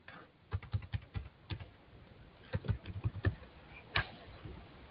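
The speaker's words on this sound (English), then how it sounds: "Am I typing two different names?" Keys clack on a computer keyboard in short, irregular bursts of quick taps with pauses between them. The typing is close but quiet, and no one speaks.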